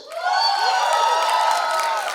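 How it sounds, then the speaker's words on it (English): Audience at a streaming series trailer launch breaks into loud clapping and cheering with whoops, a dense steady wall of sound that swells in quickly and holds throughout. "lots of claps"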